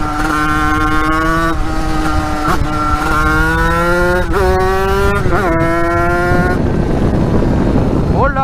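A YFC Swap 80cc two-stroke dirt bike is ridden on gravel, its loud, buzzy engine climbing and dropping in pitch through repeated revs and shifts, close to the rider.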